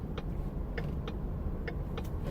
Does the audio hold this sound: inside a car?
yes